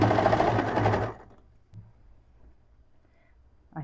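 Sewing machine stitching viscose fabric for a beach cover-up, a loud continuous motor run for about a second, then stopping into near silence with faint handling noises.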